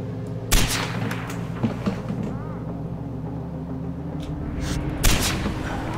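Sniper rifle fire in the Far Cry 4 video game: two sharp, loud shots about four and a half seconds apart, each cutting through a steady low rumble of in-game ambience.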